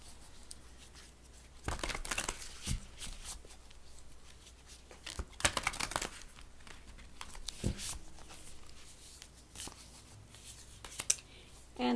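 A tarot card being drawn from the deck gives quiet, intermittent papery slides and soft flicks, spaced apart in a calm room.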